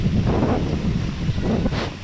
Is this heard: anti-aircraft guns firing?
no